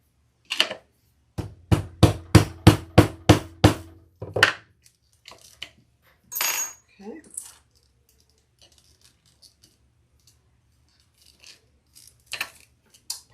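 Rapid metallic hammer taps, about eight sharp strikes in a quick even burst, then a few scattered clinks and knocks, close and fairly loud.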